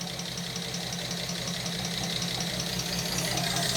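A small engine idles steadily and evenly, a continuous close mechanical hum with a faint high whine running throughout and no talk.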